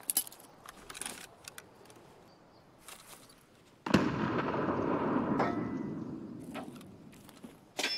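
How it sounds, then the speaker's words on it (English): A grenade goes off in a multiplayer video game: after a few faint clicks and taps, one sudden loud blast bursts out and trails into a long, rumbling, crackling decay that fades over several seconds. "I died by my own grenade"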